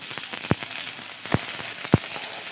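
Onion pieces fry in hot oil with black cumin in a wok, giving a steady close sizzle broken by a few sharp pops and spatters.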